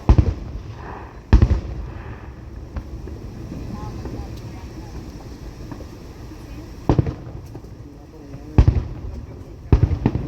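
Fireworks cake of about 200 grams going off at a Fourth of July celebration, sharp bursts spaced several seconds apart over steady outdoor background noise.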